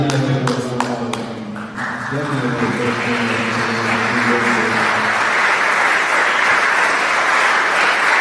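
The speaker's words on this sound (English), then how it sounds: "Round of applause." An audience at a faith event breaks into applause, a broad wash of clapping that swells after a few sharp claps and a sustained tone at the start, then holds steady and loud.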